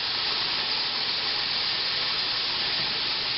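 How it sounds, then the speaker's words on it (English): Hot water pours from a tap into a bucket in a deep utility sink, making a steady, loud rushing hiss that stays even from start to finish. "Then we're going to fill this the rest of the way with hot water"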